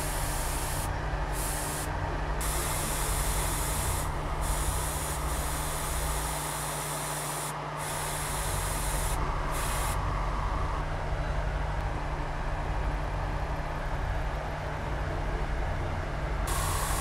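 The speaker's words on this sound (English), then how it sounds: "I first did the OSL with my airbrush." An airbrush hisses steadily with ink, a broad continuous spray running almost without break for the whole stretch, with only a few short dips where the flow pauses.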